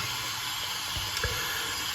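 Tap water running steadily while a shaving brush is rinsed at a sink, a constant hiss with a couple of soft splashy bumps, close and alone without talk.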